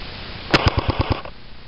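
An airsoft FAMAS rifle fires a quick burst of about seven or eight sharp, evenly spaced snaps at close range, the first two shots loudest, over faint background hiss.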